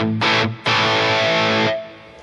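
An electric guitar plays through the drive channel of a Helix PRS Archon amp model, giving two loud, distorted chords: a short stab, then a longer one that rings and fades.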